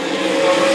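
Sprint cars race in heavy traffic around a racetrack, a loud, continuous, high-pitched engine scream that holds steady throughout the short burst.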